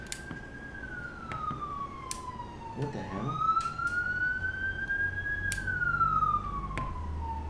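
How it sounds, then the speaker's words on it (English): An ambulance siren wails in long rising and falling sweeps as it passes by outdoors, with traffic noise beneath it and a person speaking briefly partway through. "Ambulance. That's an ambulance, yep."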